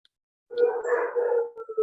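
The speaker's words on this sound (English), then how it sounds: "I'm sorry for the noise of the dogs." Dogs howl outdoors during an online group discussion, a sustained wavering howl that starts after a silent pause and carries on, fairly clear and moderately loud.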